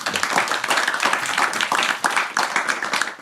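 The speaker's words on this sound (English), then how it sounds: "can we just give them all a round of applause?" A seated audience at a green-technology talk session claps for a panel, giving a lively, close, continuous patter of many hands with no clear pauses.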